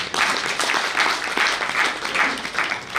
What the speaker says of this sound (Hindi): उनके लिए भी ताली बजाइए।